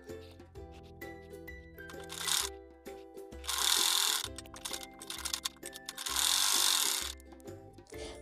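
Sewing machine running two lines of stitching along a folded fabric strip for a small summer dress, close whirring runs with rhythmic needle clatter, pausing between bursts, no talk.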